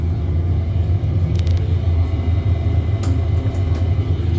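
A jet airliner in a flight simulator game rolls down the runway on its takeoff run, a steady deep engine rumble filling the background with a few faint clicks over it.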